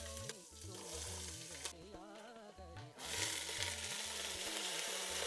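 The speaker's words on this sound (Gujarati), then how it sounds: "જીરું સફેદ બ્લેક તલ વઘાર થોડો વઘાર કરી નાખું" Cumin with white and black sesame seeds tempering in hot oil for a Gujarati cheese paneer vegetable ball breakfast, giving a steady close sizzle and crackle over a low repeating music bed that briefly drops out mid-way.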